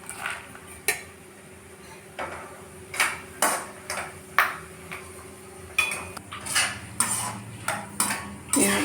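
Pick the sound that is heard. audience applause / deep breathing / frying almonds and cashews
frying almonds and cashews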